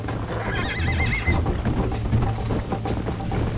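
In the Western video game Red Dead Redemption, a horse lets out a loud wavering whinny early on, followed by steady clip-clop of hooves and rumbling movement throughout, with no talk.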